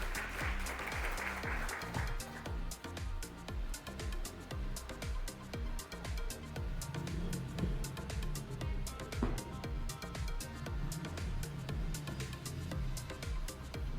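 An audience applauds a speaker being welcomed at a formal French-language ceremony; dense, sustained clapping runs the whole stretch over a heavy, thumping low rhythm, with no voices standing out.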